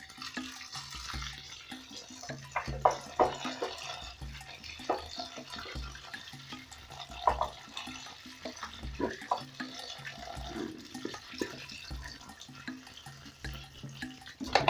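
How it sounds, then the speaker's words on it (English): Water trickles and splashes unevenly from a tap while omena, small fish, are rinsed in cold water, with intermittent drips and rinsing sounds, fairly quiet and close. "Then I'm going to run this through cold water."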